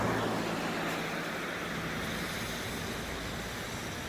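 Floodwater from Indian Creek rushing over Bill Watkins Road and around submerged trees and fences, a steady, dense roar of flowing water that stays constant throughout.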